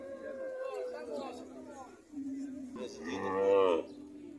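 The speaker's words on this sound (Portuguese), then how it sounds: "Olha o tamanho do boi aqui, ó." A bull lows at a cattle fair in Águas Belas, Pernambuco, with a long deep moo rising near the end, while people chatter nearby.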